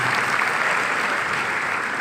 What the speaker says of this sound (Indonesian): Tepuk tangan dulu yang paling meriah buat Tuhan.